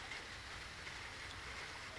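Steady rain falls during a storm in the Vientiane area of Laos, a faint, even hiss of drops with no voices.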